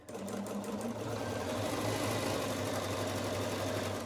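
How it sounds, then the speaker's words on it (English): A sewing machine runs in one continuous steady whir, stitching pieced quilt fabric right along a marked line, close and alone without any talk. "I'm going to, again, sew right on the line"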